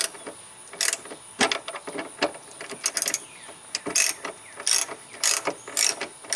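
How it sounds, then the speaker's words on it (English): A hand ratchet turns a T50 Torx bolt on the rear hatch of a third-generation F-body Firebird, with close, quick clicking bursts repeating in uneven strokes and no talk. "so I can actually get my ratchet in here"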